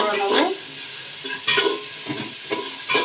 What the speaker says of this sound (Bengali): একটু সতে করে নেবো।